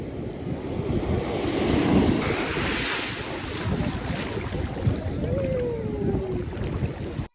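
Sea waves wash onto the shore at Dingalan, Aurora in the early morning, a steady, continuous roar of surf mixed with strong wind buffeting the microphone, with no speech over it.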